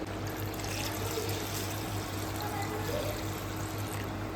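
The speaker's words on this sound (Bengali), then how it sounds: "এবার আমি জল দিয়ে দেবো।" Water pours steadily into a pot of mutton curry whose meat has already been fried in spices until the oil separates. The trickle is faint and continuous over a low background hum, with no talking.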